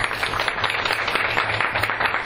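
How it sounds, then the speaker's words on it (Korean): Audience applause at a Seoul social workers' association policy debate, a dense steady patter of many hands clapping together for the incoming moderator, loud and continuous with no voices over it. "큰 박수로 부탁드립니다."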